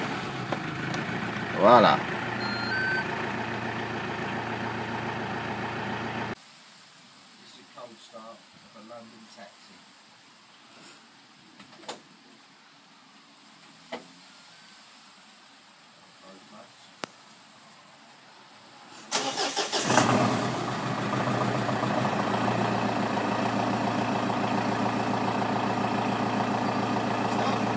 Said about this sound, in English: This is a cold start of a London taxi